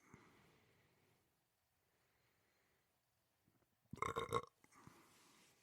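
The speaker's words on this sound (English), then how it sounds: "Nice Scotch-fueled burp." A loud, brief burp after drinking Scotch whisky bursts out near the end, following a few faint sounds and quiet murmuring, then a soft trailing noise.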